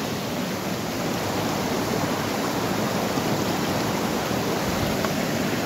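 A swollen river in an Alpine village rushes past the spot where it has washed away a small footbridge, a loud, unbroken roar of churning water.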